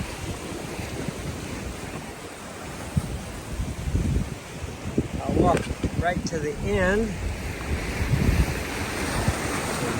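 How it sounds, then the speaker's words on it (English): Ocean waves surge into the Ovens sea cave near Lunenburg, Nova Scotia, a rough, windy wash of surf with swells building and breaking, while a person speaks briefly partway through. "That is the ocean coming in."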